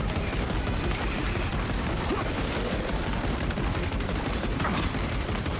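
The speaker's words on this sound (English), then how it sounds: "Come on, shoot them." Dense, continuous gunfire rattles nonstop as Tyranids are shot in the Space Marine 2 video game, a loud, unbroken wall of shots and explosions with no pause.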